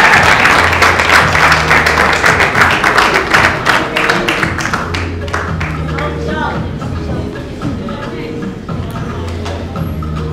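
Applause at a business patent award ceremony at the Rotana Hotel, loud, close clapping from a small audience that thins and fades over about ten seconds, with a low musical backing underneath.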